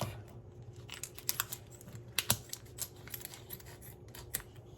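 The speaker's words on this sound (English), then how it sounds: "scissors, we'll just cut the end off" Scissors snip repeatedly in quick, irregular cuts through the end of a raw pork loin, crisp clicking blades close up against a quiet background.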